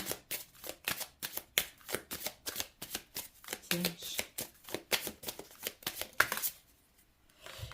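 Oracle cards are shuffled by hand for a reading, producing a steady run of quick, close riffling swishes with short gaps, before the shuffling stops near the end.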